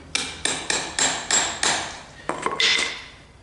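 Hammer tapping a rusted universal joint to free it: six evenly spaced metallic taps, then a quicker cluster of lighter ringing hits, close and clear with no talking.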